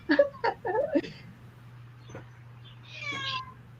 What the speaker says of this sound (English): I think I can hear my cat.